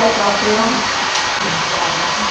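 Heat guns blow in a busy hall at the 2018 Stamperia International Convention, a craft event, making a steady, loud, close broadband whoosh that runs throughout under a background murmur of voices.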